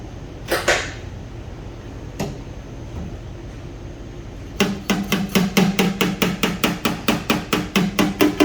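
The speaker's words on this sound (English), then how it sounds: "I'm able to pull it up and then manipulate it with the hammer" A couple of isolated metallic knocks, then a steady run of sharp body hammer blows shaping a collision-damaged car body panel, ringing and evenly spaced, close and loud.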